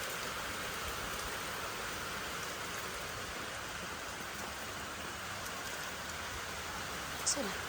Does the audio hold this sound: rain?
yes